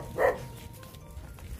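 A dog gives a single short bark early on, close and fairly loud, set against a murmuring outdoor background on a Christmas visit in Sindangan.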